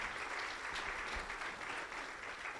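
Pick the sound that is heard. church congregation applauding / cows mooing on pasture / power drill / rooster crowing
church congregation applauding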